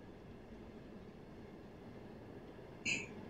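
An EU47 electric locomotive hauling eight modernised carriages in the MaSzyna train simulator gathers speed with a low, steady rolling rumble and a brief high squeal near the end.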